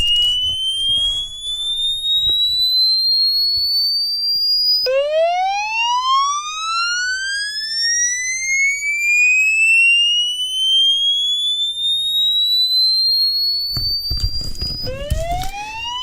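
A pure sine test tone glides steadily upward from 500 Hz to 5 kHz, loud and alone, with a short earlier sweep at the start and a brief burst of noise near the end.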